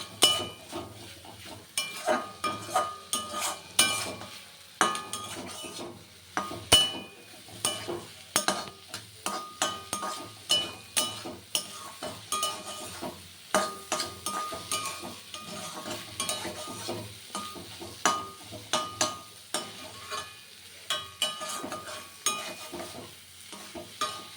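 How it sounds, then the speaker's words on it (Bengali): Egg and vegetables fry in a pan while a utensil stirs and scrapes repeatedly, clinking against the metal in an uneven rhythm throughout. "ডিমটাকে পুরো একদম ভাজা ভাজা মতন করতে হবে আগে"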